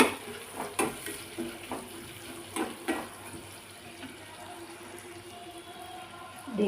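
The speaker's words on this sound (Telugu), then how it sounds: "వాటిలో ఇప్పుడు దీంట్లో యాడ్ చేస్తున్నాను. యాడ్ చేసుకొని కలుపుకోవాలండి." Egg biryani ingredients, fried earlier, being stirred into the rice in a kadai, with scattered clinks and scrapes of a spoon against the pan over a low kitchen hiss.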